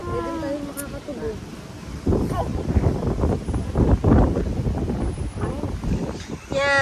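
Strong wind buffets the microphone beside a hotel swimming pool, a steady low rumble with gusts that swell louder after the first couple of seconds, while children and adults talk and call out over it.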